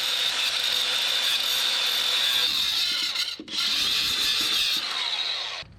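A wire wheel scrubs a truck's ground connection clean with a loud, harsh, steady grinding whine, broken by a brief pause before it bites again and then winds down.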